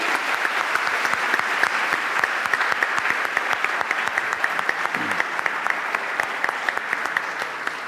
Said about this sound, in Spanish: un fuerte aplauso para Nacho